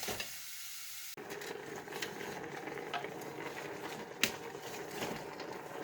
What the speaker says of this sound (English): So we can't actually see it boiling, but we can hear it.